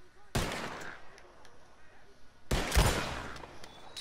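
Gunfire in a shooting video game: two sharp bursts of shots, the first early and the second, louder, a couple of seconds later, ringing out over a low murmur of game sound.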